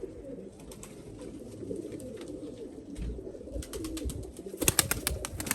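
Pigeons coo softly in a loft, with low murmuring calls running throughout and brief wing flaps or clattering near the end.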